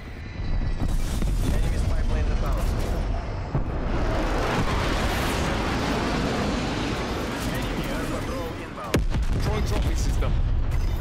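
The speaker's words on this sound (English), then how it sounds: "Hostile strafe run inbound." Hostile aircraft strafing run in Call of Duty Cold War, heard as a dense, continuous roar of gunfire and explosive booms that stays loud throughout, with a sharp burst near the end.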